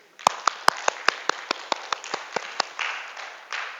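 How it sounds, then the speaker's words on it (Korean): About a dozen sharp, evenly spaced claps from an audience in a Korean church sermon setting, crisp and near, fading into a softer room murmur at the end. "일단 예를 들어서 한번 박수 쳐주십시오"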